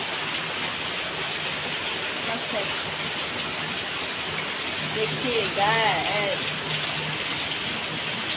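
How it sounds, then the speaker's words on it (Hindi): Heavy morning rain pours steadily as a dense, even hiss throughout, while someone talks over it in the foreground. "इतना सारा बारिश अचानक से मॉर्निंग में"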